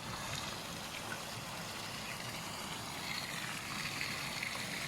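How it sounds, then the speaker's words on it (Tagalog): Strong water pouring from a spillway pipe on the San Juan River, a steady, unbroken rush that stays close and even throughout with no voices. "ang lakas ng tubig"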